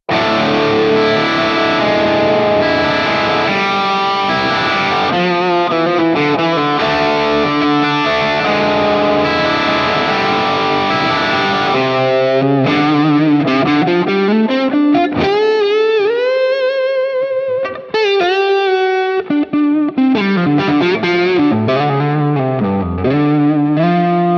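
A distorted electric guitar through a Hotone Ampero modeling a Marshall Silver Jubilee amp plays chords and then melodic bends and runs, its tone washed in reverb and chorus-like shimmer.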